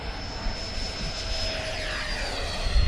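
An HSD Banana Hobby Viper Jet 75mm 6s electric ducted-fan RC jet flying low through a valley, a steady high-pitched whine and airy rush at moderate distance, with a deeper rumble building near the end.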